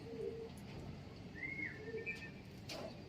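Bird calling in a quiet outdoor setting, several short whistled and cooing notes scattered over a few seconds, moderately close against a faint background hiss.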